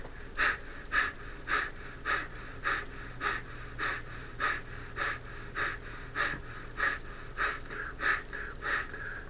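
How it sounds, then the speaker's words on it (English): Breath of fire breathing exercise done through a closed mouth: rhythmic, forceful nasal exhalations repeat roughly once per second, each a short hissing puff, close and steady throughout. "And that is breath of fire."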